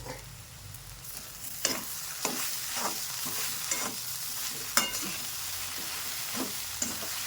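Spiced scrambled egg masala with Kashmiri red chilli and pav bhaji masala stirred in a sizzling pan, a low frying hiss broken by about a dozen spatula scrapes and knocks at an uneven pace, no speech.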